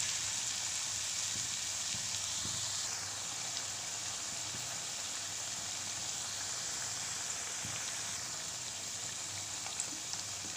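Potato cutlets, kachay aloo kabab, frying gently on a low flame, giving a steady, even sizzle and crackle that runs unbroken and fairly quiet throughout, with no voices.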